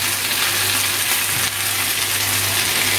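Ground mustard paste and cumin hit a hot frying pan, giving a steady broad sizzle and hiss that runs loud and even throughout, close up and with no talking.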